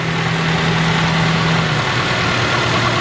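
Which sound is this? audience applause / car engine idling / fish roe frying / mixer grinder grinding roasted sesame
car engine idling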